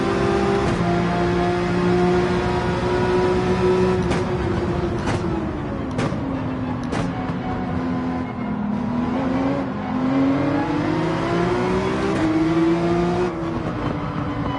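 A race car engine in Gran Turismo 7 on the Nürburgring holds a loud, steady drone, its pitch rising and falling through gear changes and a nitrous boost, with a few brief clicks.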